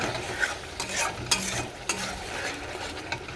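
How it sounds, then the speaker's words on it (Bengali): Masala being sautéed and stirred in a pan for a katla fish curry with big katla pieces and fish head: a steady close sizzle with scraping stir strokes and a few sharp clinks, no talk. "এখানে দেখো এখানে মশলা কষানো হচ্ছে"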